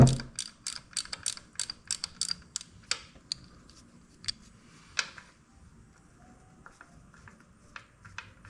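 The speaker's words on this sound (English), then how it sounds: "You're going to need a 5/8 socket to reach the oil bolt under here." A ratchet wrench with a 5/8 socket clicks rapidly and close while loosening the oil drain bolt on a Harley Road Glide motorcycle, with dense ratcheting strokes at first that thin into scattered single clicks.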